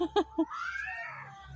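A few short muffled knocks are followed by a single long, rising-and-falling cat meow in a garden in Turkey, moderately loud.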